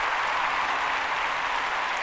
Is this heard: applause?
yes